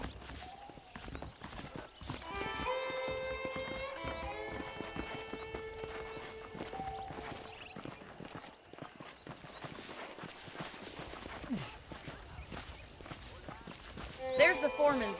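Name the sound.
horses walking, clip-clop hooves in Red Dead Redemption video game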